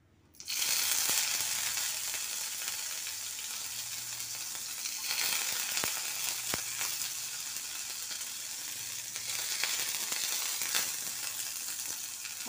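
Green chillies hit hot oil with cumin seeds in a pan, bursting into a loud, steady hiss that holds evenly, with a few sharp crackles and faint clinks along the way.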